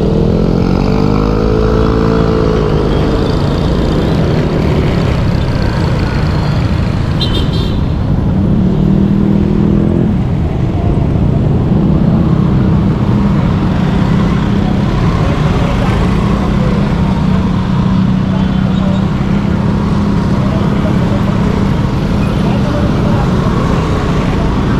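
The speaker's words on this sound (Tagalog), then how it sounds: "Dito kasi ang daming motor, kaya medyo ingat-ingat." Steady road traffic on a busy stretch of Philippine road, many motorcycles and cars passing in a continuous close drone, with a louder engine swell near the start; heard from inside a moving vehicle.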